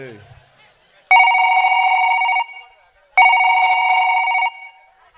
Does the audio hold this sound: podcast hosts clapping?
no